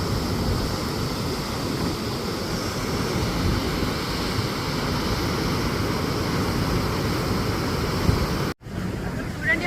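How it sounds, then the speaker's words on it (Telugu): Water roars steadily at a large reservoir, a loud continuous rushing wash that stays constant before a brief dropout near the end. "వాటర్ కూడా చాలా సౌండ్ చూసారా."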